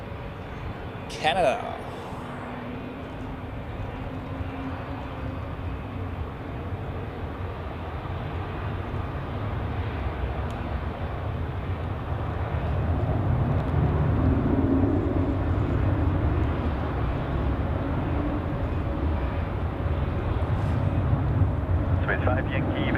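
A passenger jet taking off at Zurich Airport on a crosswind day, a broad jet engine roar that builds steadily and stays loud, with a brief radio voice near the start.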